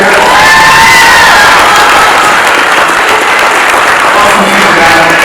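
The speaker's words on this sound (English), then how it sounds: "One more round of applause for the future of their" Loud, close applause at a youth wrestling banquet, thick clapping mixed with cheering and children's shouts, with a few voices calling out over the sustained crowd noise.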